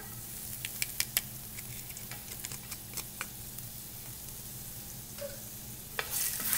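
Chopped garlic sizzles steadily in hot oil in a pan, a soft continuous frying hiss with occasional crackling pops and a stir near the end.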